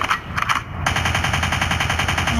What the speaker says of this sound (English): a gunshot means forward